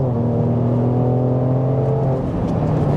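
A 2018 Mercedes-AMG GLE43 (W166) pulling hard from a standstill, its engine note climbing steadily under heavy acceleration, a loud continuous drone heard from inside the cabin.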